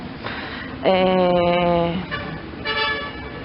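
Car horns blaring in city traffic: one long, loud, steady blast, then a shorter honk, over a rumble of road noise.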